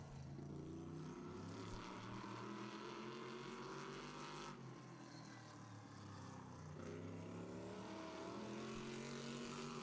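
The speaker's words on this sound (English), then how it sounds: "He's going to take a run in this number 5 car." Crate modified race car number 5 roars around the track on its laps, a loud, sustained engine drone with rising and falling pitch as it passes through the turns.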